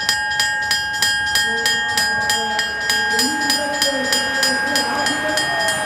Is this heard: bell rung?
yes